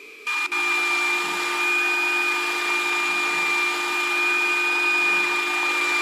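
A wood lathe spins while 80 grit sandpaper is held against the turning workpiece, making a steady whirring hum with a faint abrasive hiss that runs unbroken and fairly loud, with no talking.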